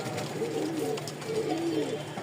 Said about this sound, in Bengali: লাস্ট আমাদের ডিম বাচ্চা খাওয়ার জন্য 2 পেয়ার কবুতর আছে